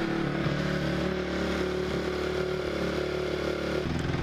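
A motorbike engine, just out of storage, idles steadily with the choke off, a low, even throbbing pulse, close by and loud, no voices.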